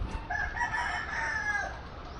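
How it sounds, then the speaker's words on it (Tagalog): A backyard breeding rooster crows once, a single drawn-out cock-a-doodle-doo lasting about two seconds, heard fairly close amid low outdoor background noise. "pinakamatanda nating palahi na manok"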